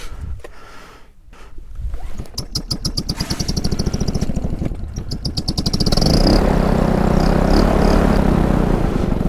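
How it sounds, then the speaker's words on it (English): A paramotor engine on a launch field cranks, sputters and catches, then settles into a loud, steady, close-up running drone. "let's get this engine started"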